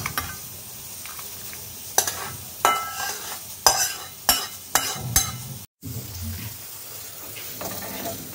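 A spoon stirs food in a pan on a gas stove, with soft sizzling underneath and a series of sharp scraping strokes mid-clip, then a brief cut to silence before the frying hiss resumes.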